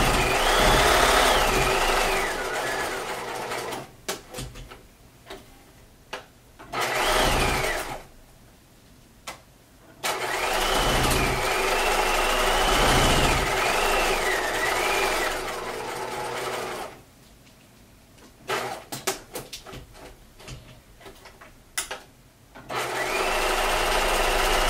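A sewing machine stitches a vintage-style picnic skirt in several long, loud, close bursts separated by pauses where the fabric is turned at corners, its motor whirring and slightly rising and falling in pitch.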